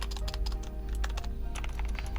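Brisk typing on a MageGee MK-Mini 60% mechanical keyboard with noisy blue switches. Rapid irregular clicky keystrokes sound close and crisp over a low hum, with no talking.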